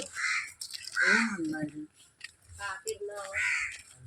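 Crow cawing repeatedly at close range, harsh calls recurring through the clip with people talking over and between them.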